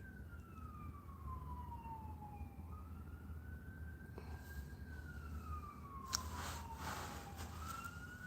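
Ambulance siren passing outside, a faint wailing tone sweeping slowly up and down over low traffic rumble, with a brief bump near the end.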